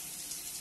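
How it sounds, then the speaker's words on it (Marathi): Water drains from freshly boiled noodles poured into a colander in a home kitchen, a brief steady hiss of running liquid at close range. "चाळणीमध्ये आणि खाली पाणी गळून जाते मग चाळणीतलं"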